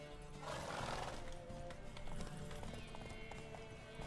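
A horse gallops and neighs in The Witcher 3: Wild Hunt, its rhythmic hoofbeats clopping steadily while a loud whinny rises early on, set against a soft game backdrop.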